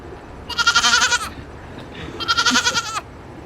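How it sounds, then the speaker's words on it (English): A goat lets out two loud, wavering bleats, each about a second long, separated by a short pause, with no talking. "play him out with this GOAT being horrified of Marty."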